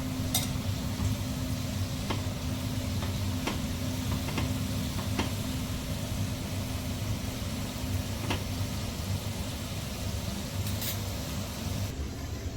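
Jackfruit chips frying in a pan of oil give a constant loud hiss and bubble, with occasional sharp ticks and scrapes from stirring scattered through it, no voices.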